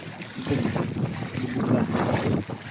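Strong gusting typhoon wind roars and buffets the microphone in a continuous, blustery rush, in Occidental Mindoro, Philippines.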